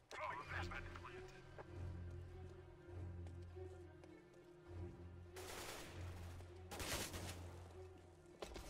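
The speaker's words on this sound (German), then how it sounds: "Irgendwie sind doch Schüsse gerade hinter mir eingeschlagen." Gunfire in Counter-Strike: Global Offensive during a ranked match, with bursts of shots landing nearby under continuous game ambience and talk, two loud broadband bursts standing out toward the end.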